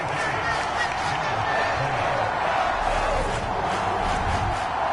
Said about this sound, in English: The home crowd here absolutely loves it